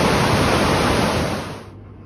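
A waterfall near a restored bridge pours in a dense, loud, steady rush close by, with the roar dropping off sharply near the end.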